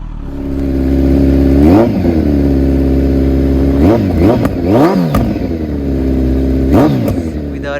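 A Kawasaki Z900 inline-four with a LeoVince slip-on exhaust idles loudly up close, then gets blipped through several sharp revs that rise and fall, one near the start and a cluster in the middle.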